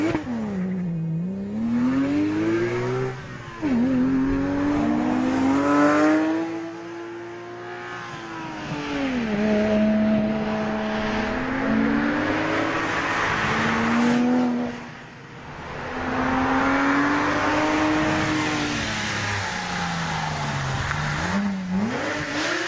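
A Porsche 911 GT3 engine driving hard, loud and close, climbing through high-revving sweeps with repeated gear changes and brief lifts between pulls over a long stretch.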